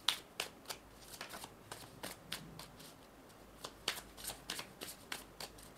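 A deck of tarot cards is shuffled by hand in a series of quick, crisp riffling bursts and soft slaps, close and fairly quiet, repeating irregularly throughout with no clear talking.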